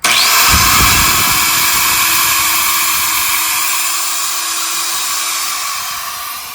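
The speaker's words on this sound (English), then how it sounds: "grab my grinder and just very easily round this off" An angle grinder fitted with a polishing pad rounds off the edge of a shower tile. It gives a loud, steady high-pitched whine that runs unbroken for several seconds, then eases slightly near the end, with no talking.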